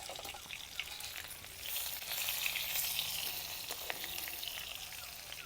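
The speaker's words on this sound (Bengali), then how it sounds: "আগের মতো আবার উল্টে পাল্টে এক এক করে ভেজে নিচ্ছি" Bhetki fish paturi frying in oil in a wok: a steady, dense sizzle and crackle that swells slightly midway, close and continuous, with no talking.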